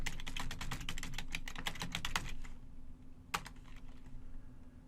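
A command being typed on a computer keyboard, a quick run of close key clicks that stops and then ends with one firmer keystroke after a short pause.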